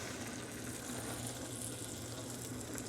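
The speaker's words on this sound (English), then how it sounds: "And now it's about ready to put the pork chops in the butter" Bone-in pork chops sizzle in melted butter in a pan, a faint, steady frying hiss without pause.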